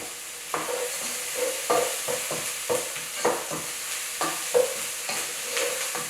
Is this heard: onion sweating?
yes